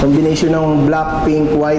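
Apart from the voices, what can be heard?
None of the usual background noises is heard.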